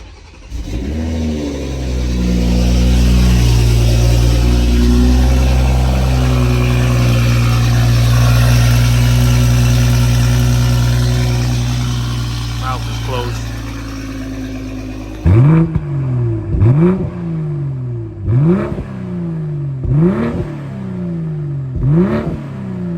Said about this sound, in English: I'll give you guys the official first cold start.